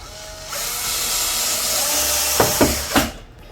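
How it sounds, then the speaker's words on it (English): A screw being driven into a cabinet door hinge during a DIY hinge change, a steady close whirring drive ending in a few sharp clicks and knocks. "I'm going to screw in the other side,"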